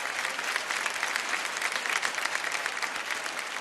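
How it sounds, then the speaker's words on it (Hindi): A crowd applauds loudly and continuously, a dense, even wash of clapping that carries on throughout. "एक बार जोरदार तालियां"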